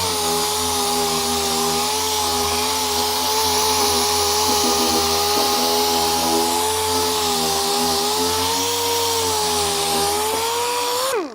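A power sander fitted with a dry guide strips paint, giving a loud, steady high-pitched whine that runs without a break and then cuts off abruptly at the end.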